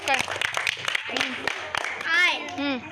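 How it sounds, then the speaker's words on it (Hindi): Children clapping in a classroom during an alphabet activity, a string of short sharp claps under a teacher's and children's voices, with a voice rising clearly near the end. "हाँ, तालियां बजाओ।"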